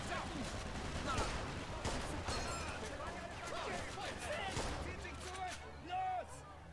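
Rapid gunfire fills a shootout in the video game Mafia 2, with repeated loud shots and bursts layered over shouting voices and other game sounds throughout.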